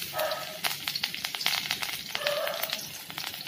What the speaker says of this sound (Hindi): और इस कढ़ाई में इसमें हम तड़का लगाएंगे। फ्लेम को स्लो रखना है और इसके साथ में ही इसमें मिर्ची डालेंगे।